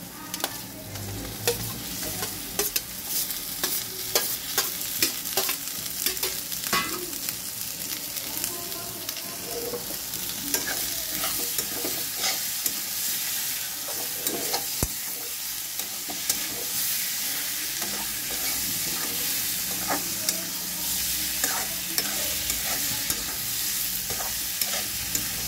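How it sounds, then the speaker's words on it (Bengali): Potatoes frying in a pan, a long, steady sizzle with frequent crackles and repeated stirring clatters, close. "আলুগুলো দিলাম।"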